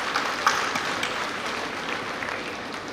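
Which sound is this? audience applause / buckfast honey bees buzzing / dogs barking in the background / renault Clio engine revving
audience applause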